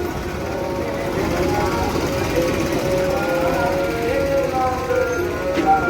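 A steady, loud engine rumble from a new tractor runs throughout, idling or running nearby at a Sikh religious festival, with no clear pauses.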